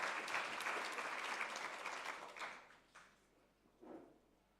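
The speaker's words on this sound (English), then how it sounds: "can you stand up and we give a round of applause for you" Audience applause at an investment summit, a broad steady wash of clapping that fades after about two and a half seconds into a quieter hall with a few scattered claps and a brief murmur near the end.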